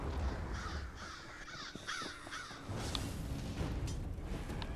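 Crows caw repeatedly in Elder Scrolls Online, harsh calls sounding in bursts over a dark, rumbling game ambience with a few distant booms.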